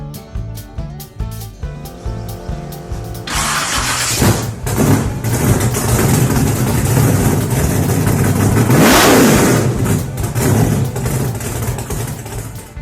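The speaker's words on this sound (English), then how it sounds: "my 1957 P350, also commonly referred to as a Ford Vanett. Now, this is the inline 6 223 engine" A 1957 Ford P350 bread van with its inline-six 223 engine cranks and catches, then revs loudly and repeatedly up close, the engine roar swelling and falling with no voices.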